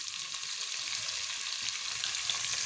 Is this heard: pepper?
yes